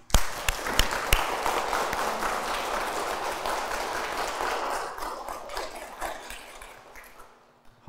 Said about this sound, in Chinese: 用掌声 向以色列和以色列的胜利表达敬意